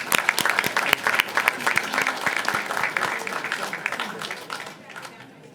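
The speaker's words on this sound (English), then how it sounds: "Let's give our superheroes another round of applause." City council meeting audience gives a lively round of applause for city staff, sharp individual claps over a crowd bed that gradually fades out, with some voices mixed in.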